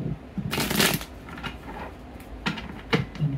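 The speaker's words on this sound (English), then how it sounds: "let's appreciate my awkward shuffle now" A deck of playing cards is shuffled by hand in a few quick, somewhat clumsy riffling bursts, close and fairly loud, with short pauses between them and no talking.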